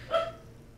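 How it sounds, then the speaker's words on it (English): A single short dog bark sounds once, fairly faint and distant, then fades into quiet room tone inside the video game Disco Elysium. "this is just a dog barking now"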